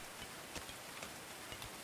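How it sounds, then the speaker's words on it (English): A heavy downpour rushes steadily in the medieval colony-building game Going Medieval, a thick unbroken hiss dotted with soft droplet ticks. "That's a crazy amount of rain, though."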